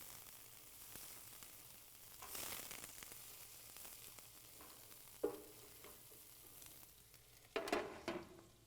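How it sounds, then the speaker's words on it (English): Garlic sizzles in a hot pan while being stirred. The steady frying hiss is joined by occasional scraping bursts from the utensil, close but fairly quiet, with no one speaking. "Let me just stir some of our garlic, it's getting a little hot."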